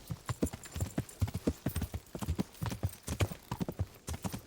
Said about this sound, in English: cutting across the countryside going on a fast horse is fucking fun as hell